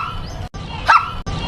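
A woman imitates a dog with her voice, giving one short, high, yipping bark in the middle of a brief stretch of steady indoor background noise.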